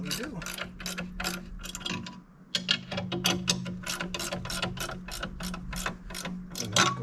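A combination wrench ratchets around a bolt, giving a long run of quick, evenly spaced metallic clicks up close, with a brief pause partway through and a low hum underneath.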